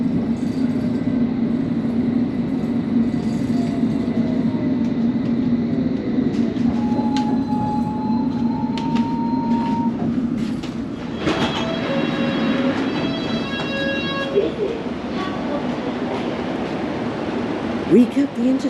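A London Underground train rumbles steadily along the tracks, with a rising whine, squealing wheels and clattering as it slows.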